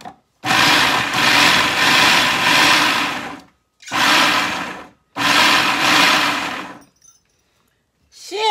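A kitchen blender chops an onion in three loud, roaring bursts separated by short pauses, the motor whirring close up before falling silent with a faint clatter at the end.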